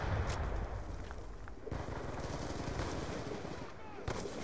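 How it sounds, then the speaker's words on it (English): Gunfire from an online Black Ops II match, including a sniper rifle shot, rings out amid a steady wash of battle noise. The sharp cracks are quiet and somewhat distant, with no talking over them. "Oh, what the hell? Some guy sniped me."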